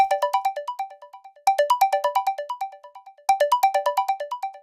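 A mobile phone rings for an incoming call, its bright melodic ringtone phrase of quick descending notes repeating three times, clear and close, with no talking.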